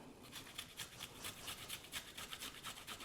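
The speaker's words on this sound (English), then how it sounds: "So, grater, and just grate it in there." Fresh ginger root rubbed against a hand grater for tea, a steady rhythmic rasping of quick repeated scrapes at close range, with no talking.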